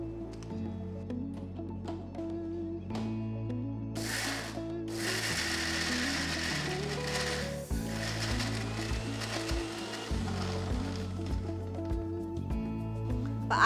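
A kitchen mixer grinder grinds garlic into a paste with a continuous humming motor whine, rattling and churning, and louder bursts as the blades catch the mixture, close and with no talking.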